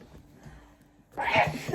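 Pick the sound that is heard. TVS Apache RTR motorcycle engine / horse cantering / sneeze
sneeze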